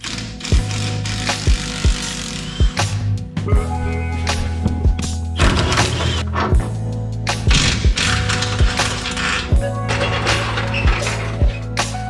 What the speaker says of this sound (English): It's just a matter of undoing all the bolts, drop the leaf spring out.